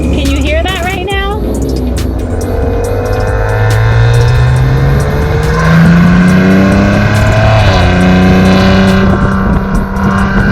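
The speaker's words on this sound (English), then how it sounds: "when you push the sport button, the car actually lowers and the exhaust opens up. This thing sounds mean." A 2019 Maserati Levante S GranLusso SUV in sport mode, exhaust valves open, revs up and down in steady rising and falling sweeps, close and loud, with a voice talking over the engine.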